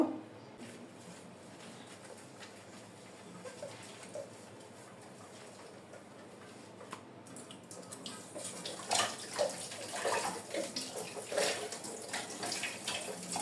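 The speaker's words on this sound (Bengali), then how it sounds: "বেসিনে বেশ কিছু থালা বাসন জমা হয়ে গিয়েছে, তো এখন এগুলা ধুয়ে নেব।" Dishes washed in a kitchen basin under a running tap: faint, steady water at first, then louder splashing and clinking in the second half.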